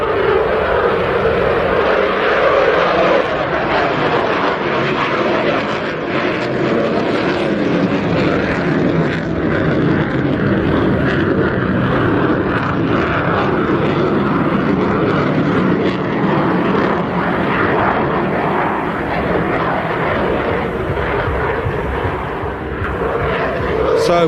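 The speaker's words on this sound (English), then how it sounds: "watch as he pitches the aircraft up and just accelerates away" A roughly 25-ton jet aircraft at an air show pitching up and accelerating away, a loud continuous engine roar filling the sky throughout with steady, slightly shifting intensity as a commentator talks over it.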